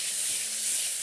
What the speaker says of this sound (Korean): 요렇게 해서 팬에다가 볶는데요